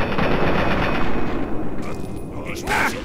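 Rapid automatic gunfire rattles at super mutants in the video game Fallout 3. A dense, loud burst of shots runs for nearly two seconds, then breaks into a few scattered reports as a player's voice talks over it.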